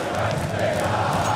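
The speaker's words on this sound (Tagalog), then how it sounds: "Oh my God, the crowd is just insane. I can barely hear myself" A roaring home crowd at a CS:GO major tournament in Rio keeps up a steady, dense wall of cheering and shouting, loud and unbroken throughout.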